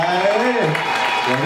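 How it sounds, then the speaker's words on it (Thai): Audience applause at a Thai series launch event, a crowd clapping steadily throughout while a voice talks loudly over it. "ขอเสียงปรบมือพี่หนุ่ยด้ว ย ครับ"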